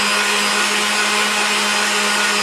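An electric mixer beats a warm Swiss meringue for cakes with a constant, loud whirring motor drone and a steady hum that never varies.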